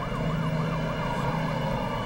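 An ambulance siren wails steadily in a rising and falling electronic tone, loud and close throughout, with no voices present.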